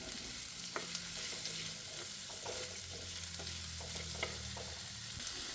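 Sliced snake gourd frying in a pan, with a steady close sizzle throughout while a spoon stirs and scrapes, giving light irregular clicks against the pan.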